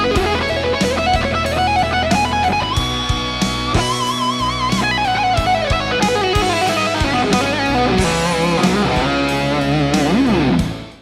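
An expanded shred lick on a heavily distorted electric guitar: a loud, close, nonstop flurry of rapid notes and sweeping runs, punctuated by held notes with wobbling vibrato, played solo for about eleven seconds before cutting off.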